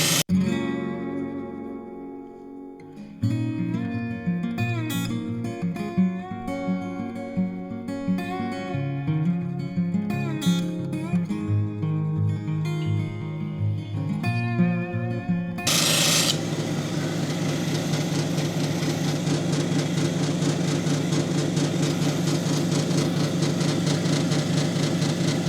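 Petrified wood is ground and polished on a lapidary wheel: a motor hum carries shifting tonal scraping and grinding at first, then a dense, steady rasping hiss takes over for the second half, continuous and fairly loud.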